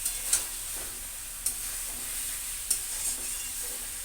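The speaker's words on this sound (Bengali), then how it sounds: "এটা দিয়ে নাড়াচাড়া করে নেব" Pre-boiled chicken and potatoes for biryani being stirred in a pot, a soft continuous sizzle broken by a few sharp scrapes or taps of the spoon, close and quiet, with no talk.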